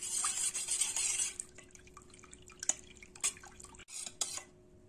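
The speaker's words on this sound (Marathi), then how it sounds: "आता आपण हे रईने फेटून घेऊया" Curd and water churned with a wooden hand churner for spiced buttermilk, a stretch of sloshing liquid at first followed by scattered splashes and knocks, close and fairly quiet.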